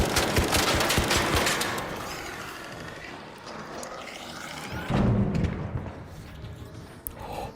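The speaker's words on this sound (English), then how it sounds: "This gun sucks." Rapid automatic gunfire from a gun in a video game, a dense loud burst at first that thins to scattered shots and thuds, with game sounds continuing underneath.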